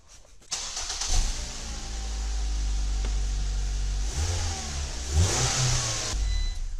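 A car engine cranks and catches, then settles into a steady idle with a couple of brief revs near the end.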